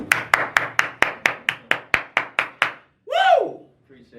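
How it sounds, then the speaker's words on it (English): A single person claps about a dozen times in a quick, even rhythm, sharp and close, for a guest on a talk show about an MMA career, followed by a brief excited whoop. "Let's give him a round of applause."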